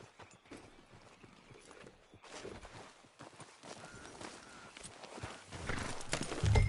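Horse hooves clip-clopping in the video game Red Dead Redemption 2, a soft, steady walking beat of hoofsteps under faint ambient sound, growing slightly louder toward the end.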